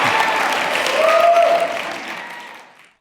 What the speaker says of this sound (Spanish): Sostengan sus aplausos hasta que cada uno de ellos termine su declaración